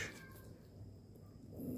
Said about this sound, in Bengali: যে কত বড় বিড়াল।